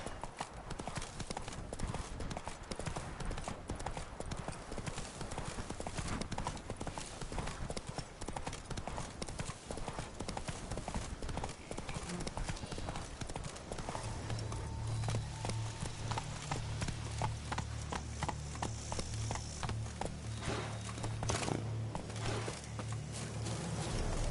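Horse hooves clip-clop steadily in The Witcher 3 video game, a continuous close trotting rhythm running throughout, with low game sounds underneath.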